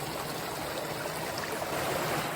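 A clear mountain stream in Maine rushes over rocks in spring, a steady, close, full-bodied wash of flowing water with no voices.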